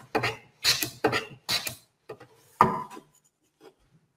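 Individual wood shavings come off under a right-handed hand plane on a shooting board: five or six short, close scraping strokes in quick succession, then a couple of fainter touches fading out.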